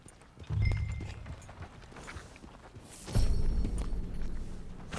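Horse hooves in Red Dead Redemption 2, a few soft clip-clop steps at first, then a louder cluster of heavier hoof thuds about halfway through, fairly close, with no voices.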